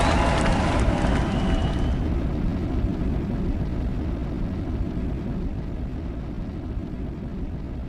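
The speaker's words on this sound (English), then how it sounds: "Liftoff of Eternity-1, carrying Rideshare-1, its first commercial mission." Eternity-1 rocket lifting off with Rideshare-1 aboard, a loud, steady low roar and rumble filling the air, with crackly high hiss early that fades as the deep rumble continues.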